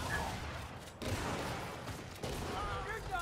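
Gears 5 multiplayer gunfire plays as bursts of rapid shots in the background, with voices talking over the battle.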